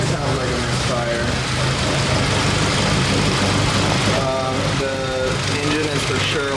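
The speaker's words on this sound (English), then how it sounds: "Idling, again, not very well. You can hear, kind of sounds like a misfire." A BMW E30 with a swapped Honda K24 engine idles roughly with a misfire, a loud, steady, uneven rumble close by that goes on through the whole clip.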